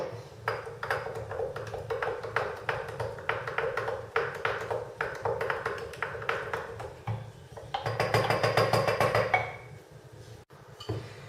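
A spoon stirs blackcurrant liqueur mixture in a glass vessel, sending out a fast run of bright pinging clinks and taps that grows busier and louder toward the end, close up with no talking.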